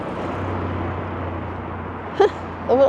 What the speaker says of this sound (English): A little car.